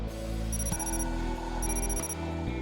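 A phone rings in the game Goddess of Victory: Nikke, with steady electronic ringing tones repeating twice over a continuous musical background, with no talking.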